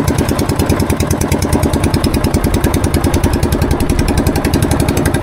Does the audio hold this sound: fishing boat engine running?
yes